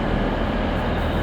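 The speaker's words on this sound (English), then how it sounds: "Just can't get enough of this train station" A dense, continuous rumble of train and crowd ambience fills the Antwerp train station, steady and loud without any clear individual sounds.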